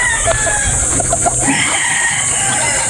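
Boston breeder chickens on a poultry farm, with several clucks and short calls close by over steady pen background noise, and a faint crowing rooster partly heard among them.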